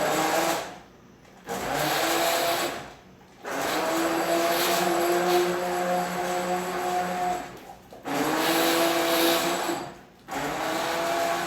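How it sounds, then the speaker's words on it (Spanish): A blender whirs loudly through a sauce for Swiss enchiladas, running in several steady bursts separated by short pauses, its pitch shifting slightly as the blades work. "Ok, vamos a licuar."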